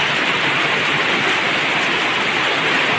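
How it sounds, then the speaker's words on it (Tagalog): Heavy rain pours down steadily in a dense, loud wash of noise, blowing in under shelter and soaking a hammock, with no voices over it. "Kasi pumapasok po yung ulan."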